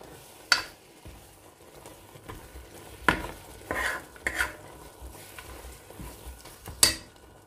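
Taco filling with seasoning stirred in a pan, soft sizzling frying broken by several scraping strokes and clinks of the utensil against the pan, close and intermittent, no talk.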